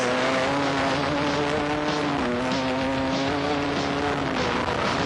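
A 250-class race car engine is held at full throttle on the final lap, giving a loud, continuous, close-up roar with a steady high-revving drone and slight pitch shifts and no break throughout.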